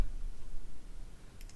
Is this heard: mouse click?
yes